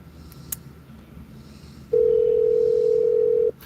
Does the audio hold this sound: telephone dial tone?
yes